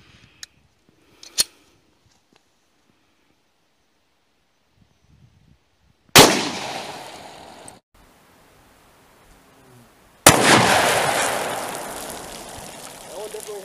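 Two loud, close 10mm pistol shots firing 180-grain Speer Gold Dot rounds into water jugs, each a sharp crack with a long fading tail, the first near the middle and the second a few seconds later, after a mostly quiet start.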